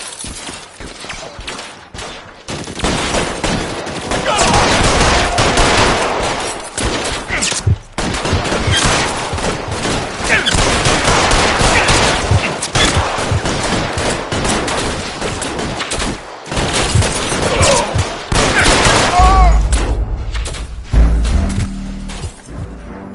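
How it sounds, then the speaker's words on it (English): A sustained shootout in L.A. Noire, with loud gunfire that stays nearly continuous for about twenty seconds, broken by a few brief pauses, before it tapers off at the end. "All units, shots fired, officer needs help."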